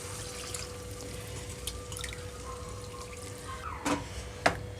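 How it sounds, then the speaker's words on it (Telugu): Water is added to a simmering taro and tomato gravy curry with drumsticks in a pot, heard as soft drips and trickles over a faint background hum, ending in two brief splashing pours. "ఇప్పుడు ఇందులోకి ఒక 3 కప్స్ వరకు వాటర్ యాడ్ చేస్తున్నాను."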